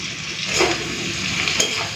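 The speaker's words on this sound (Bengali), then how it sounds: "জল দেবো না, ঢাকা দিয়ে দিয়ে এইভাবে সজনে ডাঁটাটাকে ভেজে নেব।" Drumstick pieces frying in a pan with ground spice paste, turmeric, sugar and salt, no water added: a brief close sizzle with stirring scrapes of the spoon, steady and moderately loud.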